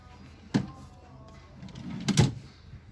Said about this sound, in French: Je vais vous ouvrir les tiroirs.